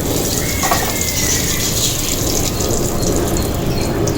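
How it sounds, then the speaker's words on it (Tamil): Cinnamon, cloves and cardamom fry in hot oil for a prawn gravy, making a continuous loud, close sizzle with no pauses. "அது பொரியுது."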